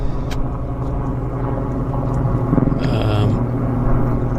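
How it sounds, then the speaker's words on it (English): A helicopter flies high overhead near Vancouver airport, giving a steady, heavy low rumble that swells slightly midway and stays loud throughout. "There's a helicopter way above me, but it sounds like it's just 10 feet above me."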